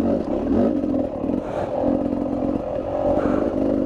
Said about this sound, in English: I sort of chop the throttle and let the RPMs come way down too low